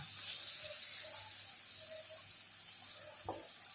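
Lota fish, Bombay duck, dropped into hot oil with cooked-down spice paste, a quiet steady sizzle with faint scattered clinks and one sharper knock late on, no talking.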